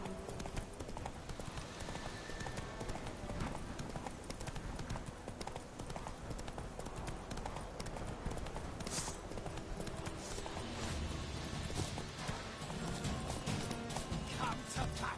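In The Witcher 3, the horse Roach trots with rapid, steady clip-clop hoofbeats over a dense bed of game music and ambience, moderately loud throughout.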